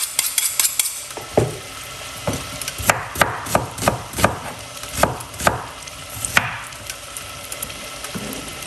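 White onion sizzling in a pot of oil, a steady frying hiss broken by repeated clinks and scrapes of a utensil against the pot, with no talking.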